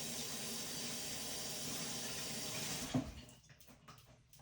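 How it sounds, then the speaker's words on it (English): A kitchen tap runs steadily while hands are rinsed, a constant hissing water flow that breaks off near the end into scattered drips and splashes, fairly quiet and with no one speaking. "Okay, now rinse your hands off."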